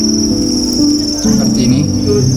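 Crickets on an Indonesian cricket farm chirp continuously and loudly, a steady high-pitched trill filling the space with a faint low murmur beneath.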